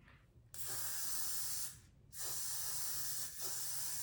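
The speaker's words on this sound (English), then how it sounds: "this time I'm gonna use some heavy duty Got to Be Glued Blasting Free Spray" Bursts of Got to Be Glued Blasting Freeze hair spray from an aerosol can, three loud close hissing sprays of a second or more each, separated by short pauses.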